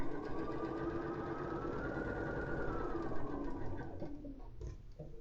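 Sewing machine stitching quilt block seams runs as a steady, close mechanical whir with no talk, then eases off and stops in the final second.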